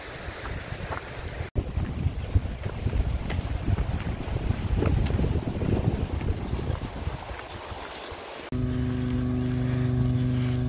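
Wind blows on a mountain hiking trail in the Tatras near Zakopane, a gusty low rushing buffet on the microphone that swells and eases, fairly loud, then gives way to a steadier humming drone near the end.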